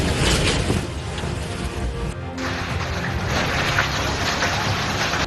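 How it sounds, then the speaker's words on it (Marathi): Steady, dense hiss of heavy rain pouring down during a severe storm in Uttar Pradesh, with a brief dip partway through, continuous and fairly loud throughout. "उत्तर प्रदेशात मुसळधार पावसाचा हाहाकार पाहायला मिळतो।"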